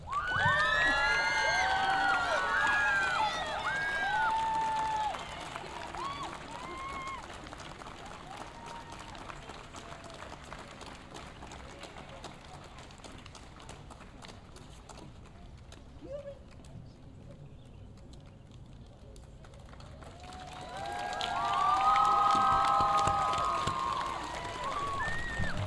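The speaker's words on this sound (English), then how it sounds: "big round of applause for row 5" Applause and cheering from the audience at a middle school graduation ceremony, a loud burst of clapping and shouting at the start, a quieter stretch of murmuring crowd noise, then another strong swell near the end.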